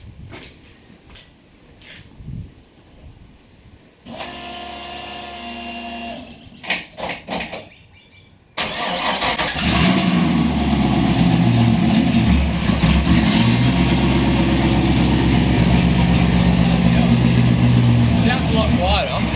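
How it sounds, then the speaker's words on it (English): A Nissan S13 with a swapped LS1 V8 engine cranks and fires up, then settles into a loud, steady idle that fills the rest of the clip, heard close by. "So I just started the engine, it starts,"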